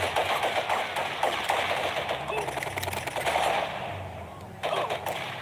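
Rapid automatic gunfire in GTA Vice City Stories crackles in dense bursts for several seconds, mixed with game noise and a voice talking over it.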